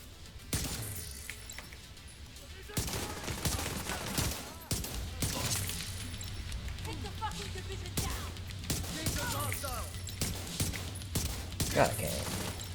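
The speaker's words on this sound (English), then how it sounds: "Headhunter makes your shotgun do really big bangs" Shotgun blasts in the video game The Division 2 boom out repeatedly in sharp loud bursts amid other gunfire and crashes, while someone talks over the action.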